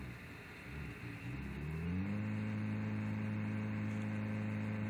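A game vehicle driven in Battlefield, its engine droning and rising in pitch as it accelerates, then holding a steady hum over background static.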